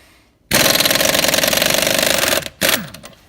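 A 3/8 inch Aircat 1355 air impact wrench hammers a lug nut loose through an extension adapter in a loud, rapid, continuous burst lasting about two seconds, followed by a short second burst.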